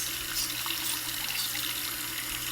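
Tap water runs steadily into a sink while a makeup sponge is rinsed, a continuous close splashing hiss with no voices.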